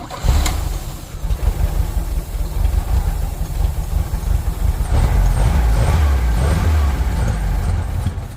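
A Chevrolet S10 pickup engine, run on a can of fuel with no fuel pump, catches and runs loud and close with a rough rumble, swelling a little louder around midway and holding a steady idle with no talk.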